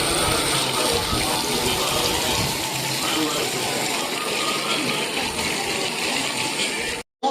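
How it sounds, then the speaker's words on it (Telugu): A waterfall at the Yadagirigutta Lakshmi Narasimha temple roars with a steady, loud, broadband rush that fills the whole stretch, then cuts off abruptly near the end. "వాటర్ ఫాల్స్ ఉన్నది"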